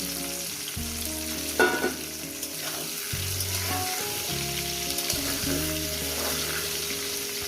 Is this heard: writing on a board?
no